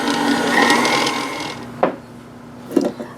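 A stand mixer kneads bread roll dough with a droning motor whir that fades out, followed by two dull knocks.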